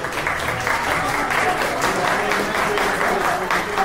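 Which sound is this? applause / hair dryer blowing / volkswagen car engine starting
applause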